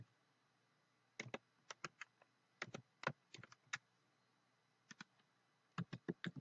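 Quiet keyboard typing in short bursts of clicky keystrokes with pauses between, close and otherwise silent.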